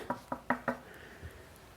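Four crisp knocks on wood in quick succession, close and fairly loud, then quiet room tone.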